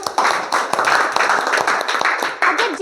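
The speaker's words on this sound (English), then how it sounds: "Clap for her!" A small audience claps at a public speaking training session, with quick, fairly close individual hand claps in an uneven rhythm over a few seconds.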